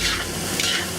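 Dace fried rice with zucchini and black beans being tossed in a hot pan, a steady sizzle with soft scraping and stirring throughout one brief moment.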